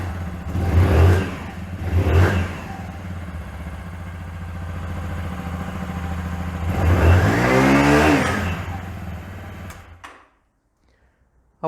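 A Lexmoto Assault 125cc learner motorcycle cranks and fires, with a couple of throbbing pulses settling into a steady close idle, then a rising rev before the engine sound cuts off abruptly.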